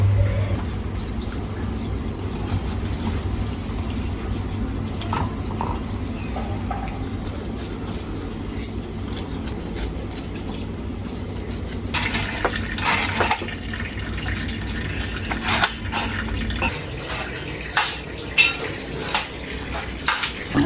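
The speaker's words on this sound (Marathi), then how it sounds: "याचं गरम पाणी टाकलं" Hot water poured while cooking, a loud, steady rush of flowing liquid that runs for around twenty seconds, with some clatter and faint background noise toward the end.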